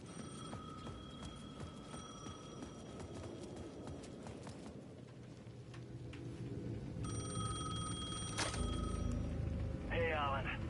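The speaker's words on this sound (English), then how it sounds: "The payphone at the edge of the plaza was ringing again." A payphone rings in repeated bursts in the video game Alan Wake, over a busy bed of plaza ambient noise and clopping footsteps, with a louder electronic ring near the end.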